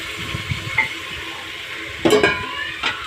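Chopped taro is tipped into hot oil with onion and chili, a steady close sizzle with a few bursts of clattering and scraping from the pan.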